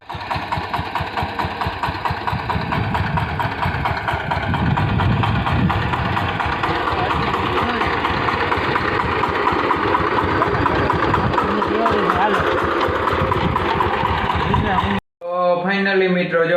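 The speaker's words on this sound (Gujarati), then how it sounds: "અને આ રહ્યું ટ્રેક્ટર" A farm tractor engine runs with a loud, steady rumble for about fifteen seconds, then cuts off abruptly, followed by a brief voice.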